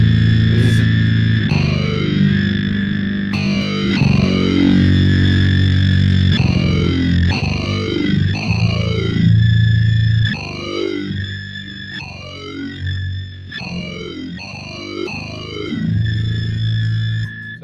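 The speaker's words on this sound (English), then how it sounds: "So it's the bass synth wah by Digitech, and the tracking on it is terrible" Bass guitar played through a Digitech bass synth wah pedal, giving loud, artificial synth-like notes with sweeping filter swoops that rise and fall on each phrase, several repeated sweeps with no talking.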